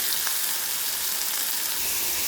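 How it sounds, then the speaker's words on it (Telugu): Chopped green chillies and onions frying in hot oil give a dense, continuous sizzle, close and fairly loud, with no talking. "ఇప్పుడు ఒక ప్యాన్ తీసుకొని అందులో ఆయిల్ వేసి పోపు పెట్టుకోవాలి"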